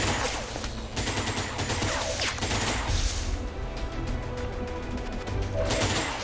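Bursts of gunfire rattle against an Archon in XCOM 2 War of the Chosen, rapid overlapping shots and crashing impacts filling the whole stretch, loud and dense with no speech.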